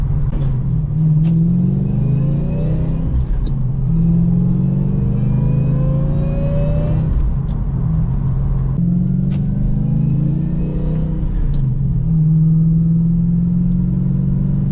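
A supercharged manual Lexus GS400 revs hard under throttle, loud and close, rising in repeated pulls and gear shifts over a steady road rumble.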